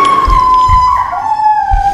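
A dog howls in one long, loud, wavering tone that dips slightly in pitch, with low thumping beats pulsing underneath.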